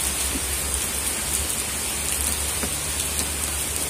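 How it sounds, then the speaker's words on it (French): Heavy rain lashing down during a violent Cévennes-style storm with extremely strong wind, a dense steady hiss of downpour that fills the whole stretch without letup, with a low rumble of wind underneath. "Oh là là, la pluie."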